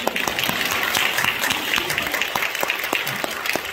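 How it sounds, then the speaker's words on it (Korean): A church congregation applauds in a steady, dense wash of clapping at a revival evangelism seminar, loud and continuous without a break. "박수 치려면 힘차게"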